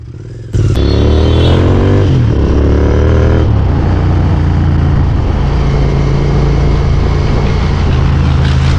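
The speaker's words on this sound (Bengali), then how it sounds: "এখন আমি সৌরভ ভাইয়ের ইন্টারসেক্টর 650-তে রাইড করছি" Royal Enfield Interceptor 650 twin with aftermarket exhausts, a steady loud engine drone while riding, the note shifting through a few gear changes in the first seconds before settling into a constant cruising rumble with wind.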